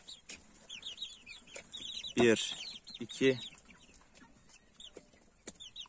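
Ornamental chickens cluck inside a chicken tent, with close, repeated clucks and two louder bursts of calls near the middle, over a quiet room background with a few soft words spoken.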